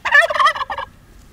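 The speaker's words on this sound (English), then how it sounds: "Oh, Mojo's chasing turkeys, though." A turkey gobbles loudly and close by in a backyard where a dog chases the birds: one rapid, rattling burst lasting under a second, then quiet.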